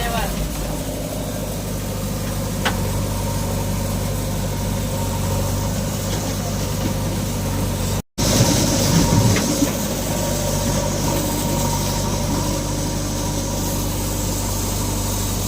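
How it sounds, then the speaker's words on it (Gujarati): Two JCB backhoe loader engines drone steadily nearby during land levelling, a low, continuous rumble while people talk over them. "બે જસીબી હાલે કામકાજ ચાલુ છે"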